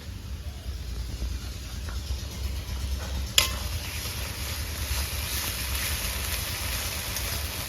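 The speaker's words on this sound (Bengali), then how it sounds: "পেঁয়াজটা আমার লাল লাল ভাজা হয়ে গেছে" Onions frying in oil until reddish-brown, a constant close hiss of sizzling broken once by a sharp knock of a utensil against the pan.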